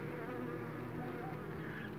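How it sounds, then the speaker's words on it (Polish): A dense, steady hum of many honey bees buzzing together close by at an open hive, continuous and unbroken with no voices. "Spokojne, kurcze, fajne pszczoły."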